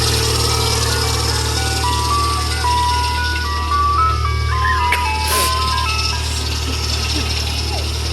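A 1989 Utilimaster Aeromate ice cream truck plays its music box jingle, a steady stepwise chime melody over the low hum of its running engine, loud and close, with a brief sharp knock partway through.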